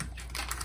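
A knife slices open the plastic packaging on a holiday ham, giving a short, close, crisp rustling scrape that lasts under a second.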